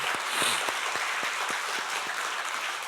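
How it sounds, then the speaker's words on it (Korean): A church congregation claps together during an early-morning special prayer service, a dense, steady wash of applause that stays even and fairly loud for the whole stretch, with no one speaking over it. "우리 청장년들에게 박수하겠습니다"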